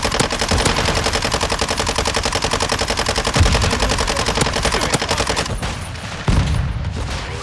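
Sustained automatic gunfire from military combat with a rapid, steady burst of shots lasting throughout, loud and close, with a couple of heavier impacts near the end.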